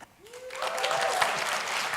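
A conference audience breaks into applause that swells from quiet into a dense, steady wash of clapping, with a faint rising whoop of cheering early on.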